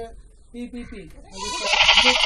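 Konkan Kanyal goats bleating on a farm, a couple of close, wavering bleats building to a louder cry near the end, with some background speech.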